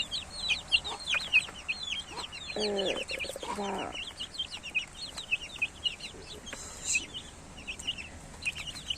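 A hen clucks softly and repeatedly amid busy chirping of small birds, with a brief rustle partway through; the scene sounds outdoor and moderately distant.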